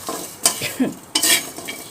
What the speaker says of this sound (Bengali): আর এসে দেখুন কয়েকটা শুকনো মরিচও ভেজে নিচ্ছি